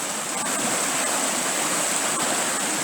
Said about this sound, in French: Un bief qui amène de l'eau encore aujourd'hui, jusqu'ici, qui la recrache dans la rivière.